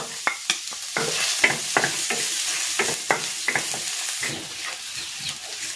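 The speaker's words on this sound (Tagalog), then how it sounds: "Magigisa na ako ng bawang." Garlic sautéing in a pan for sotanghon guisado, a loud continuous sizzle broken by repeated scraping strokes of a spatula stirring at an uneven rhythm, close by and with no talk.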